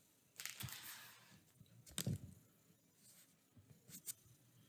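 Chalk writing on a blackboard, heard as quiet, close taps and short scratchy strokes in a few uneven bursts.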